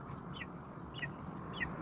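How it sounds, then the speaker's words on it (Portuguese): Family backyard hens cluck three times in short, spaced calls over a low outdoor background hum, fairly quiet and with no talking. "As galinhas da família."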